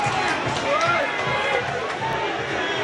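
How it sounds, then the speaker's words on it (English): A football crowd at a Tranmere Rovers v Forest Green League Two play-off urges a player on with a broad, continuous roar, heard under a commentator's talk. "Crowd urging Banks to try again, so he did."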